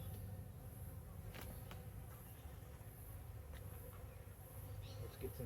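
Honeybees buzz steadily from an open hive during a queen introduction. The droning hum is dense and continuous, close by, with occasional individual bees flying near.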